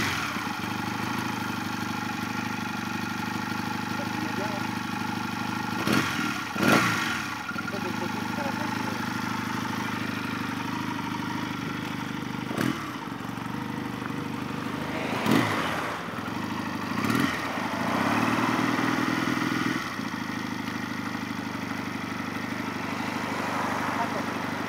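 A Regal Raptor Daytona 125 motorcycle engine running at a steady low idle, with a few short blips of throttle and nearby people talking over it.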